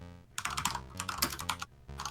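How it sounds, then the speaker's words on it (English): Rapid clacky typing on a mechanical computer keyboard, close and fairly loud, in quick bursts with short pauses between them, over a low steady tonal hum. "I have a mechanical keyboard on my desk here, and if I were using that, it would sound like this."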